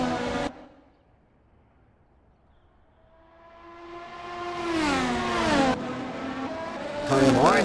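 Racing cars battle around the Red Bull Ring circuit, engines fading out then swelling as a car approaches and sweeps past with a high, rising whine, another following close behind; a commentator talks at the start.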